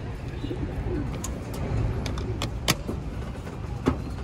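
Breeder pigeons coo softly in a loft, with low murmuring coos beneath a few sharp clicks and knocks and a faint background hum, no voices.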